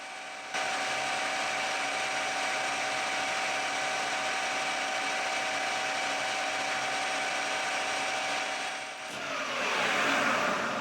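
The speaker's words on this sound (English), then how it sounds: "The outside edge of the flange needs a light chamfer" Lathe or machining tool putting a light chamfer on the outside edge of a flange for a mmWave radar rotary coupler, a steady whining hum with a faint tone, ending in a brief rougher scraping surge.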